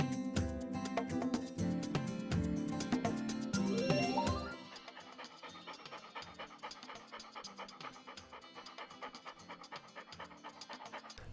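A dog pants steadily in rapid rhythmic breaths in the video game Paradigm, heard over game music that drops to a quieter backing partway through.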